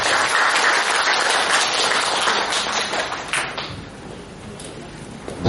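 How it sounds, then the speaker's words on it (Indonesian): An audience at a philosophy talk applauds, a dense burst of clapping that is loud at first and gradually thins and fades over several seconds. "Kita beri aplaus sekali lagi."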